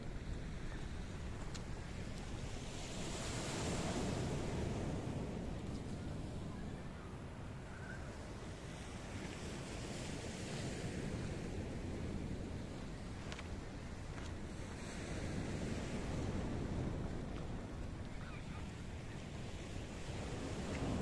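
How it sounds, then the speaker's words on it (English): Mediterranean Sea waves washing onto the coast at Coral Bay, Paphos, a steady broadband surge rising and falling in slow swells, mixed with wind buffeting the microphone and no voices. "I'm going to leave you with the beauty and the tranquility of the blue, blue Mediterranean Sea off the beautiful coastline of Paphos"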